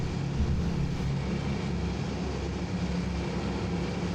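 A WWII-era propeller aircraft's engines running up in Microsoft Flight Simulator 2020, a steady, loud, deep droning roar holding constant throughout with no talking.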